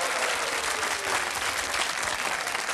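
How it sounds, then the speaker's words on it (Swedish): A studio audience on a Swedish TV bingo lottery show breaks into loud, sustained applause, a dense wash of clapping that continues evenly throughout. "Har man åkt ända från Bollstabruk ska man ha en sån fet applåd"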